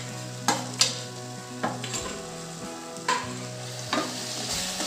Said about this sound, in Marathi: छान मिक्स करून घेऊ आपण आता हे.